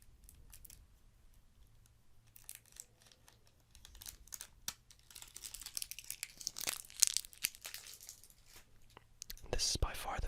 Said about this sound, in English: I always like opening a deck of cards